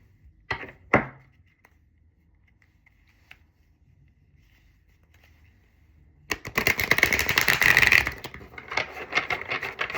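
A deck of cards being shuffled by hand, a couple of sharp taps and quiet handling first, then a burst of several seconds of dense riffling and rubbing that ends in lighter rustling.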